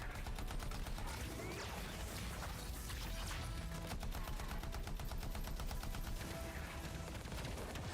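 Weapon fire in the action game Anthem, a dense continuous rattle of rapid automatic shots with crashing impacts layered throughout, loud and unbroken.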